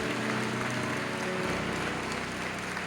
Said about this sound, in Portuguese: Vamos dar uma salva de palmas para Jesus.